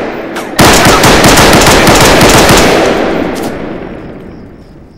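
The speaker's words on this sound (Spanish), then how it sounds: "Esos disparos fueron de supresión," A dense, rapid burst of suppressive gunfire in the video game Arma 3 erupts suddenly and loudly, rattling for a few seconds before fading into a lingering echo.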